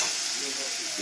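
Food frying in a pan while being stirred, with steady sizzling and hissing throughout and soft scraping of the utensil, close and moderately loud.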